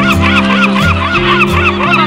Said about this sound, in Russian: Здоровые чайки такие,